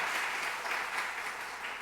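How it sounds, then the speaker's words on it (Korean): A church congregation applauding during a Sunday service, a steady wash of clapping at moderate volume throughout. "우리 격려의 감사의 박수 한번 드리겠습니다."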